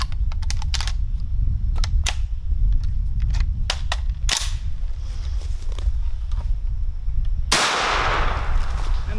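An SAS-12 12-gauge shotgun fires outdoors with sharp blasts spaced irregularly, plus clicks and clatter from the action cycling, ending in one loud, close shot.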